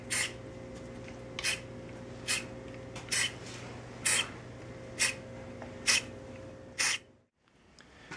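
Super glue accelerator sprayed lightly onto the joints of a chair in short, hissing bursts, about eight evenly spaced spritzes over a steady background hum, close by and fairly quiet, with no talking.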